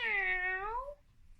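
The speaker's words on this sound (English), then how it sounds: "She awoke to a meow." A single clear cat meow, drawn out and slightly falling at the end, close and alone in a quiet room.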